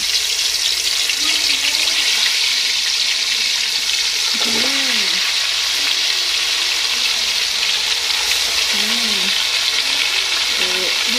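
Pieces frying in hot ghee give a steady, dense sizzle close by, running continuously under quiet talk from a woman.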